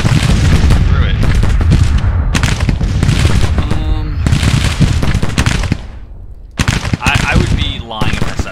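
Gunfire from a Shiloh historical battle video game: dense, loud volleys of musket and cannon-like shots crackle in bursts with brief pauses, and someone speaks now and then over the battle din.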